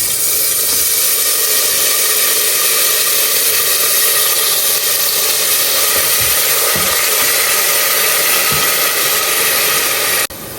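Three medium onions, one of them red, frying in olive oil give off a steady, loud, hissing sizzle. It runs unbroken for the whole stretch, with a faint knock or two underneath.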